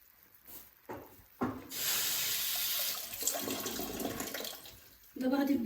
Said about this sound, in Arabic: غاديش نزيد دابا الماء حيت باقي شويه د الماء في هذا الطاجين